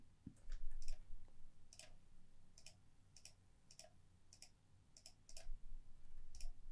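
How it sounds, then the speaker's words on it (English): Sharp, isolated computer keyboard key clicks tap out shortcuts in small bunches, quiet and close, with pauses between them against a faint background hum. "I'm going to dimension DI on my keyboard."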